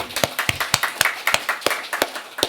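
Church congregation clapping during an evening revival service, a set of sharp, fairly regular claps from a modest group in a roomy space, loud and close with short gaps between them.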